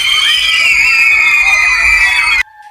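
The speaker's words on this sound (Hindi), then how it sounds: "उसकी चीखें इतनी भयानक होती थीं" A witch's shrill scream for a Hindi horror story, a loud, sustained high-pitched shriek held for over two seconds before cutting off abruptly into a faint tone.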